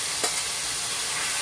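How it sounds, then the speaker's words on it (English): Pepper steak meat sizzles in hot coconut oil with a steady, close, bright hiss and a brief crackle near the start, with no voices. "That sizzle."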